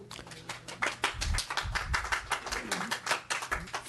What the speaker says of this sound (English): Friendly reminder that there's no applause allowed in committee